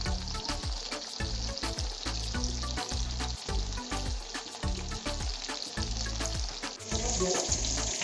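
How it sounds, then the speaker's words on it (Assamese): Fish pieces frying in a pan, a loud continuous close sizzle broken by regular scraping and stirring knocks, no talking. "এতিয়া মাছখিনি ফ্ৰাই কৰিব লৈছো"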